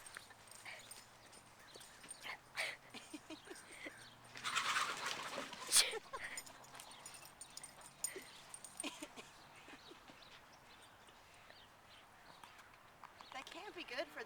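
A dog chasing chickens in a yard: scattered scuffling and rustling, a sudden loud burst of flapping and squawking midway, then quieter movement, under intermittent talk from nearby people.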